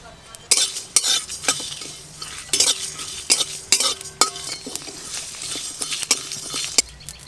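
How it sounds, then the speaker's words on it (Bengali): Whole spices such as coriander, fennel, cumin, garam masala and dried red chillies dry-roast in a pan, stirred with a metal spoon that scrapes and clinks in sharp, irregular strokes over a faint rustle. "ফুলকপির পুরের জন্য একটা স্পেশাল ভাজা মশলা বানাবো"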